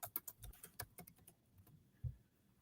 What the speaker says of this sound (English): I think I'm typing out a banner.